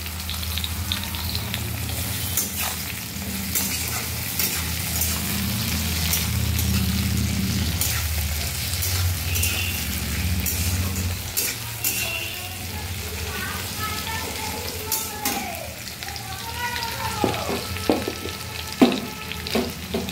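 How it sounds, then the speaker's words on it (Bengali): Onion and chopped tomato frying in a pan for a ridge gourd and potato curry, a steady loud sizzle with spatula scrapes and stirring clatters growing more frequent in the second half. "একটু নাড়িয়ে নেব। ভাজা ভাজা হতে হতে পেঁয়াজটাও ভাজা হয়ে যাবে।"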